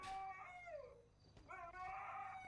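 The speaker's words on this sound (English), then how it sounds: "even the dog is howling how sad that is." A dog howling in long, wavering, rising and falling cries that repeat after a short pause, fairly faint and slightly distant, with a brief sharp knock at the end.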